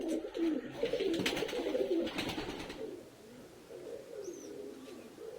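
Pigeons coo inside a cage, soft low rolling calls repeating close by, with a brief rustling burst early on and a faint high chirp later.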